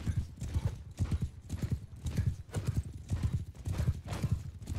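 Horses galloping in the Bannerlord game, a steady rapid clip-clop of many hooves pounding close and loud throughout, with occasional whinnies and faint talk underneath.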